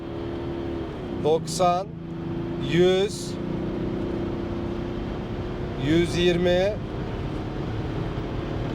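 A BMW 530d E61 diesel wagon engine revs and pulls steadily under constant road and engine drone, with someone talking over it in bursts.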